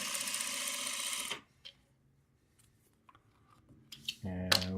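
A sewing machine stitching quilt fabric pieces into a patchwork block, a loud rapid motor whir that stops abruptly, then a quiet gap with small handling clicks before a short burst of stitching starts again.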